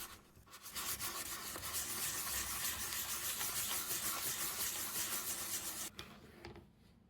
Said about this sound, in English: With some 1000 grit sandpaper, I remove some of the dye to create highlights.